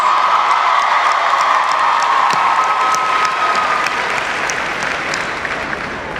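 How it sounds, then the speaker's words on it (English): At a 2018 high school graduation ceremony, an audience claps steadily, a dense wash of applause with a few cheers mixed in, gradually easing off toward the end. "let's give a round of applause for the 2018 sponsor, Mrs. Tori Miles."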